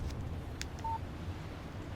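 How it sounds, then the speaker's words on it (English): A short electronic tone sounds once as a text message notification on a phone in the video game Alan Wake, a brief clean beep over a low steady background. "Text message from Barry."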